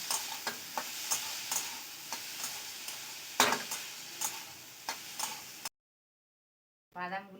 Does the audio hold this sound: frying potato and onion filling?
yes